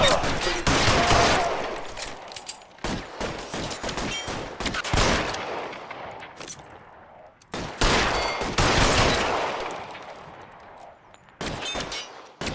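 Bursts of gunfire in the video game LA Noire, rapid volleys of shots clustered in loud flurries with short pauses between, sharp close cracks with ringing tails, shouted voices mixed in among the shooting.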